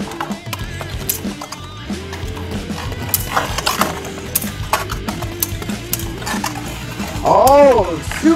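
Beyblade spinning tops, Super Hyperion and Curse Satomb, clash in a stadium with rapid metallic clicks, rattles and scraping, and a grinding whir swells near the end, with excited commentary over it.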